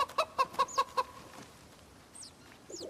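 Chickens in a hutch in Project Zomboid: a quick burst of five or six rhythmic clucks up close, then quieter chirps and a soft cluck over faint background noise.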